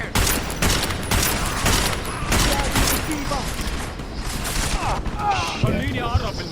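Dense, sustained gunfire in the video game Deus Ex on PS4, a continuous volley of rapid shots with crashes and impacts running throughout, loud and busy, with speech-like game sounds mixed in.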